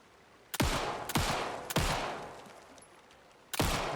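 Four heavy gunshots in the video game Alan Wake 2, loud booming blasts spaced about half a second to two seconds apart, each with a long decaying echo.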